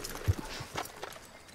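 Horse hooves clop a few times at an unhurried pace in Red Dead Redemption 2, fairly faint and soft with quiet ambience between the steps.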